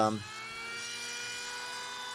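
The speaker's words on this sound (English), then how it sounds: "So I'm using my planer here, and remember, planers only cut in one direction" An electric hand planer runs steadily on ohia wood outdoors, a loud, sustained high whine with a shrill edge that starts with a brief bump and then holds even for a couple of seconds.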